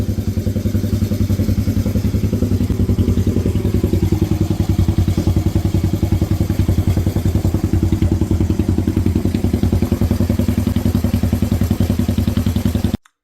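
Honda CB350 motorcycle engine with a Mikuni carburetor, idling close by with a steady, fast, even chuffing thump and a mechanical clatter that runs without a break for about thirteen seconds, then cuts off abruptly.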